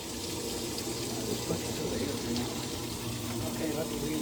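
Water pours steadily into a washing machine as it fills, a constant rushing hiss at moderate volume, while voices talk faintly over it.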